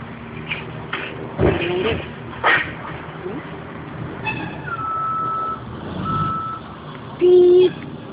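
A garbage truck on trash day gives a few spaced reversing beeps amid engine rumble, shuffling and a voice nearby, ending with a louder, longer beep close by.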